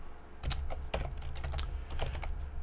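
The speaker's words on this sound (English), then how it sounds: "let me open up the console again. Let me just type the statement" Quick keystrokes as code is typed on a computer keyboard, close and clear, an uneven run of clicky taps over a low steady hum.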